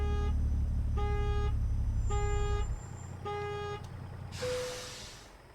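Car horns honk in American Truck Simulator, a series of short repeated toots evenly spaced over a steady low truck engine rumble, with a final longer, lower blast near the end as the engine noise drops.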